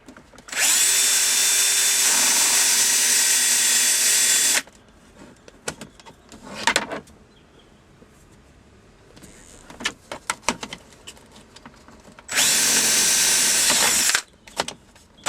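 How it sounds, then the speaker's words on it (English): A power drill boring a 3/8-inch hole while fitting an auxiliary audio input on a Volkswagen Beetle radio: a loud, steady whine lasting about four seconds, then scattered clicks and handling noises, then a second shorter drilling burst. "Can make a little hole here. You're going to need 3/8 of an inch."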